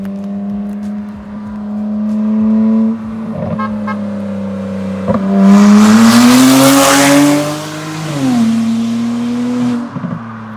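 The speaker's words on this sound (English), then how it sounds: "Is that a raspy ass N54?" Straight-piped BMW 335i with the N54 engine and a turbo-back exhaust, passing on a quiet road: a raspy engine note swells as it approaches, peaks loud and rising in pitch mid-pass, then drops away.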